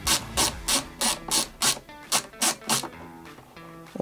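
Tiny Phillips screwdriver turning small screws loose on an RK61 keyboard during a tape mod, giving a run of about ten regular ratchety clicking bursts close up, then fading to quieter scraping.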